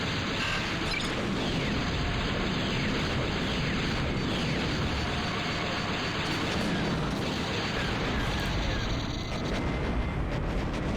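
Turret fire and explosions in the Shadows of the Empire video game, a dense, unbroken barrage of booms and blasts rumbling steadily at loud volume with no pauses.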